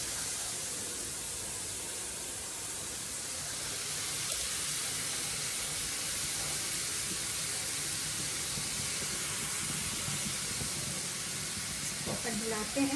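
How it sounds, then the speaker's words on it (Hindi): About 300 grams of milk boiling on a gas stove for carrot halwa, giving a steady broad hiss and bubbling simmer that continues evenly, with a few faint clinks near the end. "ये उबल रहा है, उबलता जाएगा रबड़ी के रूप में"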